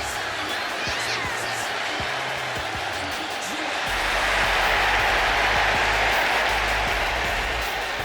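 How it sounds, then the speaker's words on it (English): Crowd cheering and applause for a women's wrestler entrance in the WWE 2K25 video game, a loud continuous roar that swells midway with entrance music and sharp hits underneath. "The WWE Universe loves cheering on the EST"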